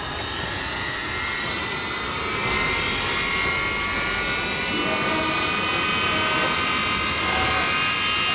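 A steady, loud jet engine roar with a high whine building slightly over time, continuous and close, as a jet bomber's number four engine spools up on the ground.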